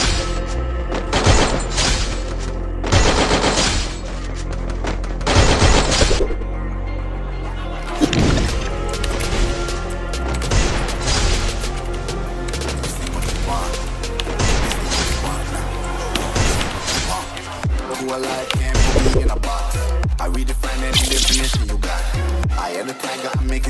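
Gunfire from AR rifles, a Desert Eagle pistol and an AWM sniper rifle in a mobile battle-royale shooter, sharp loud cracks and thuds in uneven bursts over a constant musical bed, with a voice talking at times.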